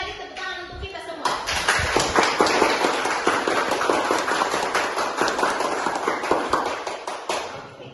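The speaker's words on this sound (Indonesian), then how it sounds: "Sekali lagi tepuk tangan untuk kita semua" A class of schoolchildren claps together in a loud, steady burst of applause lasting several seconds, with faint young voices and shuffling underneath.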